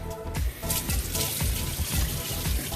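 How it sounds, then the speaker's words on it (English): Hot tap water running into a kitchen sink to rinse it after chicken breast prep, a steady, fairly loud splashing wash with no talking. "I just pretty much rinse off"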